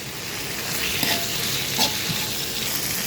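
Crispy pork is stir-fried with shrimp paste over high heat in a wok, giving a continuous close sizzle and hiss with a few soft stirring scrapes.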